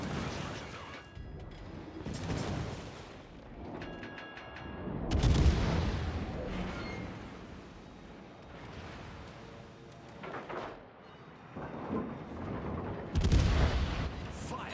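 Rockets and gunfire hammer a British cruiser in World of Warships, heavy booms and blasts striking in bursts throughout, with dense explosive hits and mechanical rumble layered together at fairly loud level.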